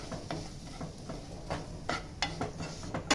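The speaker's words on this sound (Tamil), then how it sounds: "ரவையும் சேமியா நல்லா வறுத்தாச்சு பாருங்க எப்படி இருக்குதுட்டு." Semolina and vermicelli dry-roasting in a pan make faint scrapes and clinks as the spoon stirs against the metal, with a soft sizzle beneath, then a sharper knock at the end.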